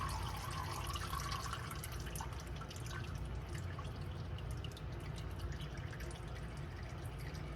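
Engine oil drains from a Chevy 6.2 into a pan, a steady trickling, dripping stream that runs unbroken and close by.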